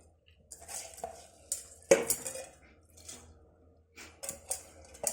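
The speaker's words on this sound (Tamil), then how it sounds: "பாஸ்மதி அரிசி ஊற வச்சுருந்தேன், அதை நம்ம போட்டுக்கிறோம்." Soaked basmati rice is added to a pot of coconut milk for South Indian rice, heard as scattered close clinks and scrapes of a metal utensil against the pot, with soft pouring and stirring between them.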